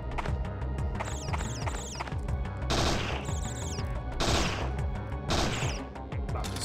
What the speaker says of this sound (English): About to shoot some butterflies with a shotgun.